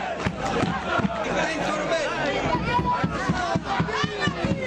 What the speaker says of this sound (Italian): I tifosi provano a scaldare l'atmosfera decisamente invernale che si respira qui a Dorgali.